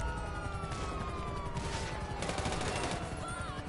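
Rapid bursts of gunfire in GTA 5 over a busy game soundscape with a wailing siren in the background.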